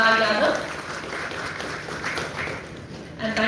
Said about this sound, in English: may I have a huge round of applause for LexLedges.ai.